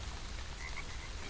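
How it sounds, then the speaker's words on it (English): Frogs croak steadily through a constant wash of broadband noise. The calls are close and moderately loud, with no voices. "Hop aboard!" called Nick, and they did, croaking their thanks."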